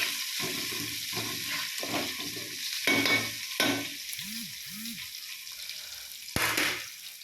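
Curry leaves sauté in oil for a pomegranate pickle, with a soft sizzle under repeated scraping and stirring strokes in the pan and a few squeaky utensil sounds.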